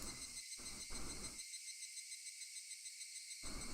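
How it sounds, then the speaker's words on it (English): Cicadas cry in a constant, high, shrill drone that carries through the whole scene, steady and fairly faint, with no one speaking. "Only the cry of the cicadas remained"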